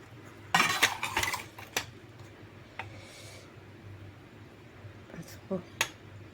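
Dal cooked with salt and turmeric stirred in a pot, with a spoon knocking and scraping against the metal in a few short clattering bursts and sparse clicks under a speaking voice.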